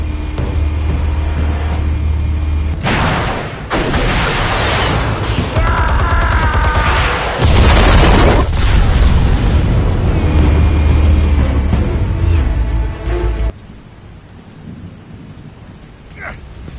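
Armed explosives detonate in a Batman game, a massive, booming blast with rumbling debris and crackling that rolls on for many seconds, loud and close, before cutting to a quieter, hissing tail.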